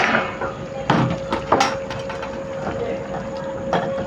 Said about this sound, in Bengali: ঢাকনাটা এবার খুলে নিচ্ছি